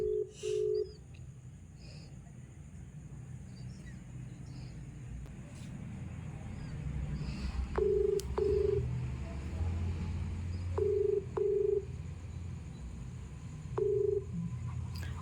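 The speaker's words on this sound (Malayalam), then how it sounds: "നമ്പറിൽ കോൾ ചെയ്യാം" A phone number is dialed on a mobile phone, producing short, clear keypad tones in small groups separated by pauses, heard over a low rumbling background.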